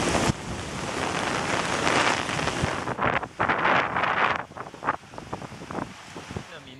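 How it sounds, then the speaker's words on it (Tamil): Typhoon Soudelor lashing Taiwan's east coast with heavy rain and strong wind, a dense, roaring wash of downpour and gusts battering the microphone continuously, loud and close with no pauses. "200 கிலோமீட்டர் வேக காற்றுடன் கூடிய கனமழை பெய்து வருகிறது"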